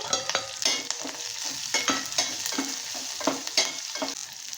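Green chilies and garlic fry in a pan, a steady close sizzle broken by repeated scraping stirs in an uneven rhythm, with no voices.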